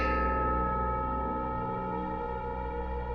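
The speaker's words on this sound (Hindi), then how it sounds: "मेरे कानों में घंटी की आवाज आई" A single temple bell rings once, loud and close, then hums on with a long, slowly fading metallic resonance.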